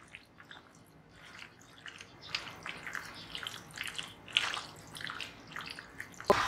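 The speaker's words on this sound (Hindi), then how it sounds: "इसको हाथों की मदद से अच्छे से मिक्स कर लें।" Spiced marinade being mixed into pasanday beef by hand, giving soft wet squishing and squelching sounds in an irregular rhythm, close and fairly quiet, with a few brief drips and clicks and no talking.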